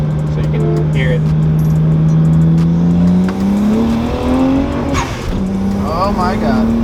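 BMW 335i with a single-exit exhaust accelerating hard, a loud rising engine drone climbing steadily in pitch through the pull, with a brief shift-like dip near the end and voices talking over it.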